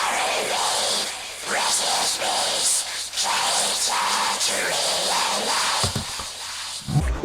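A harsh aggrotech electro-industrial vocal run through distortion and a Vocodex vocoder, with EQ cuts around 4,000 Hz and 10,000 Hz, growls in steady noisy phrases for several seconds, loud and gritty, ending in a few sharper bursts.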